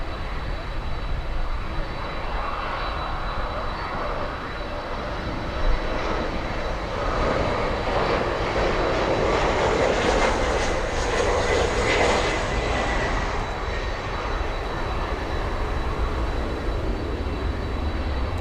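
A Boeing 767 holding short of runway 9 at Miami International Airport, its jet engines producing a continuous, loud broadband roar that swells slightly midway, heard from a distance outdoors.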